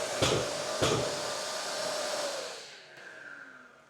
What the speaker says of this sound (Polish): Wystarczy, że nacisnę ten przycisk, odkurzacz się włączy.